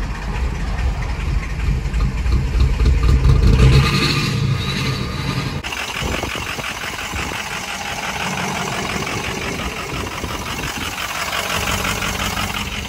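Ford truck engine idling with a rough, loping beat, a loud steady low rumble that shifts character partway through as the idle settles, with no talk over it.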